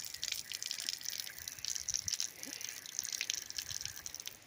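Faint trickling and splashing of water flowing from the water source on a coconut farm in Laguna, an uneven gurgle heard at a distance, with no talking.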